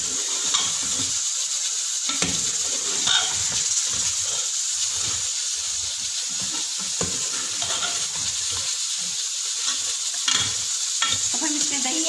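Mutton sizzling in a pan while being stirred and turned, a bright hissing fry with repeated scraping strokes of the spoon, close and steady.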